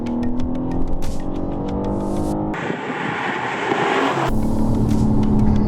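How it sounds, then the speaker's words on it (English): A new BMW M3 sports car engine revs hard and continuously as it is driven aggressively, with loud, close engine roar, rising and falling pitch through gear changes, and no talking. "I'm just going to keep driving it like an absolute lunatic"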